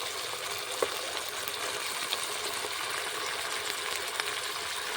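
Fried vegetables tipped into spice masala in a wok for a Bengali shukto set off a steady, close hiss of sizzling oil that runs the whole time, broken by a few faint clinks.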